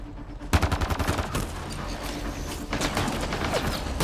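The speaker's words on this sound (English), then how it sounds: "Just keep firing, we can do this!" Rapid automatic gunfire rattles nonstop in a Mass Effect: Andromeda firefight, dense bursts of shots layered over a loud, busy battle mix with no clear pauses.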